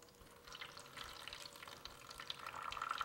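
Soaked paper being treated for platinum/palladium photographic printing drains water into a tray, a faint, steady trickle and light patter with no voices.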